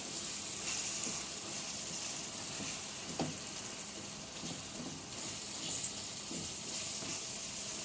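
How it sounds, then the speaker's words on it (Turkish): Minced meat for içli köfte filling sautés in a pan, giving a soft, steady sizzle and crackle with a few faint scrapes of stirring, heard up close but at low volume. "Şöyle güzelce kavurayım."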